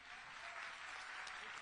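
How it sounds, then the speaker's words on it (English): An audience applauds a panel at the close of a music industry discussion, a steady dense wash of clapping heard faintly throughout with no break. "So let's give our panel a round of applause,"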